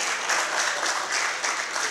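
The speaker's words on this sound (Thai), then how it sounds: "พี่น้องปรบมือให้กับพระเจ้าของเราด้วยกัน" Church congregation clapping together in praise, a dense, steady burst of many hands filling the room at moderate loudness with no talk over it.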